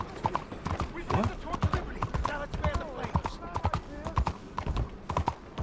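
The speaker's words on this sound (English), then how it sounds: "I'm just riding my horse slightly near them" Horse hooves clip-clop at a steady riding rhythm in Red Dead Redemption 2, close and clear, with someone talking over them and an occasional whinny.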